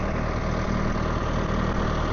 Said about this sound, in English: Tractor's busy filling up with diesel.